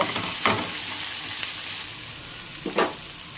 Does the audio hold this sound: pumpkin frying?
yes